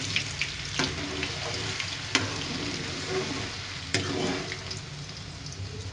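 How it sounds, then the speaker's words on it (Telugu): Ginger garlic paste frying in a pan for chicken pickle, a continuous close sizzle broken by several sharp scrapes and taps of a stirring spoon, with no talk. "అడుగు అంటకుండా ఇలా తిప్పుతూ వేయించుకోవాలి."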